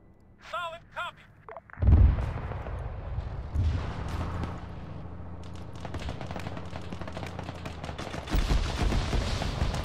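Grenade launcher fire from an automatic grenade launcher in the military video game Arma 3 pounds out as a series of heavy booms and rumbling impacts that run on under a brief bit of radio-style talk.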